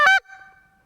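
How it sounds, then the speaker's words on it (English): A single short, high-pitched honk blown on a short reed goose call. It is loud and close, followed by a faint reedy tail. "So a higher pitched honk,"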